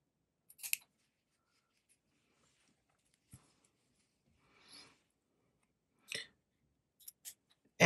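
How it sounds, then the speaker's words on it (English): Scissors cut through knitted steek floats, a few sparse, quiet snips separated by silence, close and isolated with no talk. "you're cutting through your floats as well"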